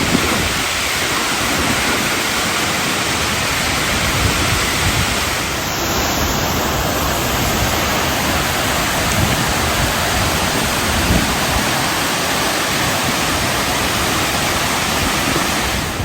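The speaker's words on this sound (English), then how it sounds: "This is the highest waterfall in Croatia, 87 meters." A waterfall roars in a dense, continuous wash of rushing water, loud and close, with no breaks. Croatia's highest waterfall, 87 meters tall, with spray nearby.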